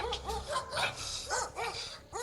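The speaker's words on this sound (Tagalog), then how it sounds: "Daming aso." Several dogs bark and yip repeatedly at a moderate distance, their barks overlapping in short, uneven bursts.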